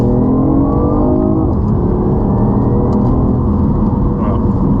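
A BMW i8 Coupé with its three-cylinder engine accelerates hard in second gear from about 60 km/h, a loud, steady, rising engine drone heard from inside the car, with no speech over it.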